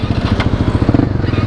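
A motorcycle engine runs steadily nearby at a motorsport meet, a dense, pulsing rumble throughout with rhythmic firing and a brief clatter early on.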